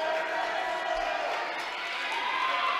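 A crowd cheers for the bench players at a Holmen at Central boys' Division 2 regional final basketball game, a steady, moderately loud roar of voices that holds without pause through the moment.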